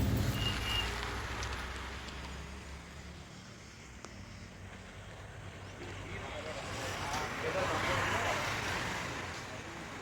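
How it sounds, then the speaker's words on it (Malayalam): Rain falls outdoors at a hill-station viewpoint in Kodaikanal, a soft, continuous hiss that swells and fades gently, with a low rumble underneath and muffled voices in the background. "നമ്മളെവിടെ പോയാലും മഴയായിരിക്കുമല്ലോ"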